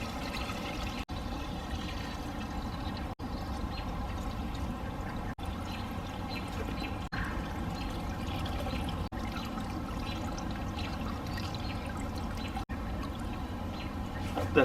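Gasoline drains in a steady unbroken stream out of the fuel tank of a Nissan Skyline GTR R32, pouring continuously at close range with a faint trickle under it and no voices.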